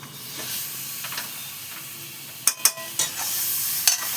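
Chicken stomach sizzles in a hot pan as it gives off water, with a soft steady hiss broken by several sharp scraping strokes of a spatula, close and alone.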